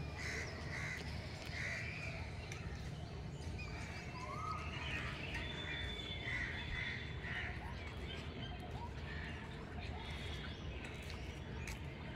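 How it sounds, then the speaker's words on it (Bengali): Crows caw repeatedly at a distance over a constant low rumble of ambient noise near a railway station, the calls faint and scattered. "পাখির এই ডাকগুলোকে একেবারেই আমার মিউট করতে ইচ্ছে করছে না"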